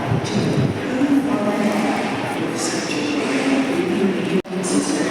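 A train rumbles steadily at a station platform, a continuous broad roar with faint clatter and a brief dip near the end.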